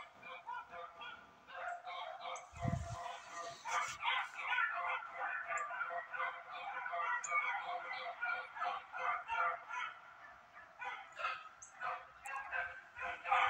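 A pack of hunting dogs bays while chasing a rabbit, their overlapping yelps and howls forming a steady, distant chorus that carries on for over ten seconds, faint and far off.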